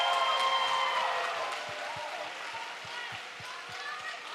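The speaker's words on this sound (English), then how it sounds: "Can we get one more round of applause for all of our amazing seniors that performed in Senior Bhangra?" At a student cultural show in an auditorium, the crowd claps and cheers for senior Bhangra performers, with whoops over steady clapping that eases slightly but keeps going.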